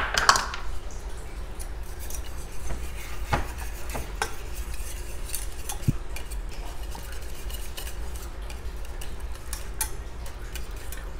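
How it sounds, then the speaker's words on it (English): A utensil stirs cream cheese and grated Parmesan into an Alfredo sauce in a pan, soft scraping and occasional faint taps and clicks against the pan, quiet and steady with no talking. "And then we'll stir all of this really well."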